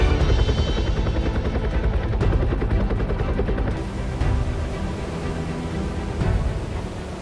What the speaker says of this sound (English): the helicopter shows up to pick up the meat